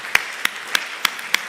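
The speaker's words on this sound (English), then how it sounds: "let's give a round of applause to all four speakers." Five crisp, evenly spaced hand claps sound in quick succession at a conference session in a small auditorium in Lisbon, nearby and distinct, with quiet room tone between them.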